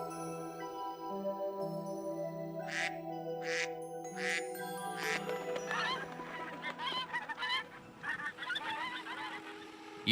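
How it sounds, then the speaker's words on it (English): Ducks in a rice field, with a drone flying overhead, give a series of honking, quacking calls that grow busier and overlap toward the end over a steady low hum. "Ducks in the field and a drone above the field make it impossible for the pests to escape."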